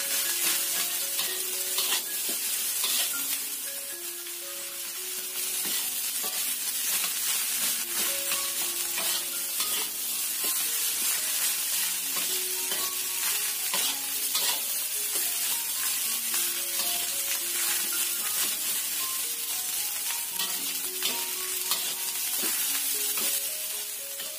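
Fried rice, rice vermicelli and noodles stir-fried together in a wok, with a steady loud sizzle and repeated scraping of the spatula throughout, no voices.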